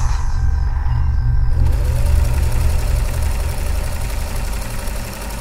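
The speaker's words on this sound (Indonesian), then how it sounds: "suara mesin jahit itu masih terdengar." A sewing machine whirs during a radio horror drama, a loud, continuous, close mechanical drone with fast rhythmic clatter that runs without a break.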